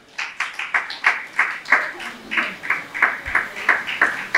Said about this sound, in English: So a round of applause for our teachers.